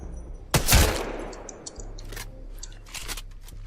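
A single-fire shot from a light round weapon in the video game Apex Legends, one sharp crack with a decaying tail, followed by faint clicks and rattles of handling, with low steady background hum.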